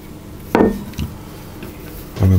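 Pastry dough for a peach and nectarine pie being pressed into a pie dish, a few short knocks and clunks against the dish, the last one a bit louder, with quiet room noise between.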